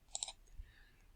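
Quick mouse clicks while plotting points on a graph, a tight cluster of three faint clicks followed by a soft thump, with no talk over them.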